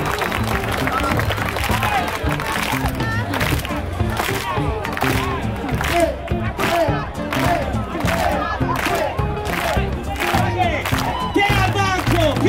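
A crowd at a town festival in Chiesina Uzzanese claps and cheers loudly and continuously, with shouting voices and whoops mixed through the rhythmic applause.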